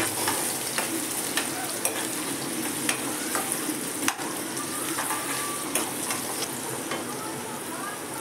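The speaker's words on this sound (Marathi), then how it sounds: "चिरून ठेवलेला कांदा घालू. कांदा असा ब्राऊन होईपर्यंत परतून घ्या." Chopped onion fries and is stirred in a pan until browned, a steady close sizzle with frequent scraping and stirring clicks throughout, no talking over it.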